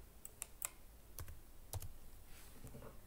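A number is typed on a computer keyboard in a few light, quick keystrokes, faint and close, in a quiet room with no talking.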